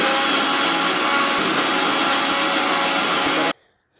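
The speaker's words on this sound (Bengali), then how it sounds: "আমি জুস ব্লেন্ডারে ব্লেন্ড করে নেব।" A juice blender whirs loudly and steadily while blending mango juice with milk and sugar, a dense, grinding motor roar that cuts off abruptly near the end.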